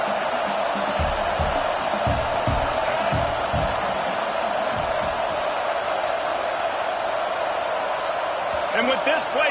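A packed stadium crowd at an American football game roars in a steady, loud, unbroken wall of noise, with occasional thumps and shouts rising out of the din.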